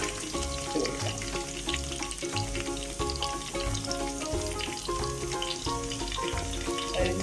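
Ginger and garlic sizzle steadily in a hot pan for a beef pepper roast, with a dense continuous crackle and occasional stirring clinks against the metal, close and uninterrupted by any voice.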